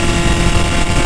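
A dirt-style supermoto motorcycle ridden on a ride-out, its derestricted engine droning steadily and loudly at speed with heavy wind buffeting over the microphone throughout.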